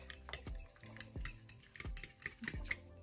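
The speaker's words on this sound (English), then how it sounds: "So I'm just kind of stirring it up, getting it all incorporated." Homemade bread dough being stirred in a bowl, a spoon knocking the sides in a steady rhythm of about five sharp clinks with soft mixing scrapes between, close and fairly quiet.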